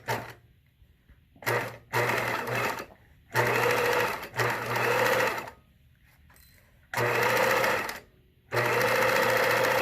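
A sewing machine stitches a 1/4 inch seam on fabric, including backstitching, in several loud bursts of rapid whirring separated by short pauses, close by.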